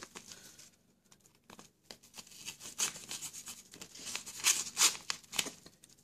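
A newly ordered small tool for slimming down a keychain being unpacked: crinkling plastic and paper packaging with tearing and rustling bursts, close and moderately loud, with no talking.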